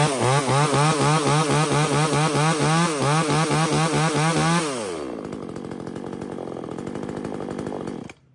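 A Japanese mini gasoline chainsaw is pull-started and immediately revs in a loud, steady, rapidly pulsing drone, then drops abruptly to a lower, rougher idle before cutting out.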